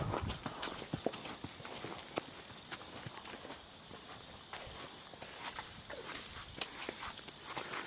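A horse walks along an outdoor trail, its hooves clip-clopping in a steady irregular rhythm at moderate distance, with faint rustling and ambient outdoor noise around it.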